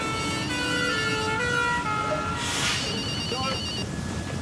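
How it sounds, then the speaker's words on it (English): Fire engine sirens from emergency vehicles wail in a steady two-tone pattern through a street scene, loud and continuous for the whole stretch, with a brief hissing burst partway through. "You hear the sirens? The fire engines"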